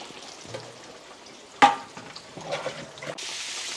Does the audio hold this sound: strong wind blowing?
no